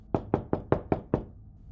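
Six heavy bangs on a door, evenly spaced and loud, then a quiet tail, used as a sound effect in a spooky thunderstorm story.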